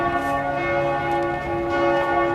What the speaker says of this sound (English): as the bells are tolling